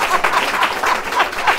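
An audience at an education talk claps in quick, rhythmic bursts, fairly loud and close.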